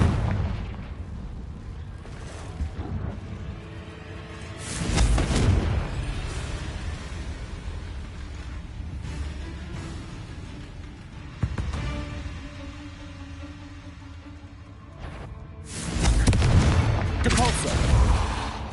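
Confringo fire spell explosions in the video game Hogwarts Legacy, heavy booming blasts arriving in separate bursts, with the loudest near the start and again near the end, and quieter rumbling between them.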